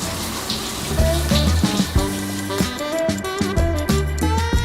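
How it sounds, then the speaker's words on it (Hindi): A push-button shower aboard a passenger plane runs in a steady close hiss of water that restarts with each press, with music playing over it. "मुझे इसे बार बार दबाना पड़ रहा है ताकि उन्हें ये ना लगे कि मैं पानी वेस्ट कर रहा हूँ"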